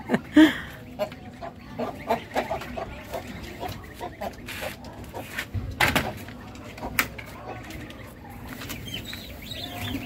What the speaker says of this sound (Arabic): يمكن دي اعلى مستوى عندي في الفراخ الهندي